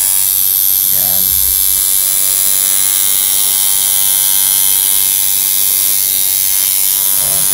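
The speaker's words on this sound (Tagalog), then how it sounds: "Pwede siya pang shader itong machine na to." A coil tattoo machine set up as a shader buzzes loudly and continuously, a steady electric drone with a faint underlying hum, running close up throughout.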